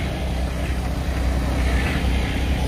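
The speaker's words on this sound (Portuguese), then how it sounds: "O caminhão tá ali dando uma compactada antes de ir embora." Heavy truck engine rumbling steadily nearby while it compacts the earth fill of a large dam embankment, a continuous low drone with wind noise and no speech.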